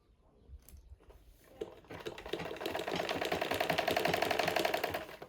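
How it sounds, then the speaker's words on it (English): A sewing machine back-stitches a half-inch skirt seam. After a few quiet handling taps, it speeds into a close, fast, even clatter that builds and holds steady. "So I'll be sewing it now. A back stitch on 1/2 inch."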